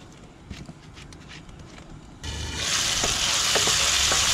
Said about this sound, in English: Straight away put in the onions and the garlic, even the tomatoes,